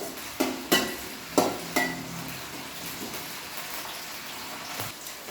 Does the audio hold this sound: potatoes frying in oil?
yes